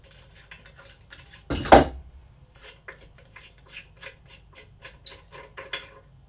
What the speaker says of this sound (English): using your larger crescent wrench, you'll want to pull off the old escutcheon nut